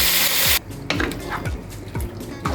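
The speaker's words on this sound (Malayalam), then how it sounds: "രണ്ട് മിനിറ്റ് ഞാൻ നന്നായിട്ട് ഇളക്കി മിക്സ് ചെയ്യുകയാണ്" Beef being stirred into sizzling masala in a cooking pot: a loud hiss of frying opens, then a spoon repeatedly scrapes and clinks against the pot in an uneven rhythm, with no voices.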